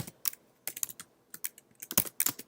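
Rapid computer keyboard typing close by: irregular bursts of crisp key clicks with short pauses between, growing denser toward the end, with no talking.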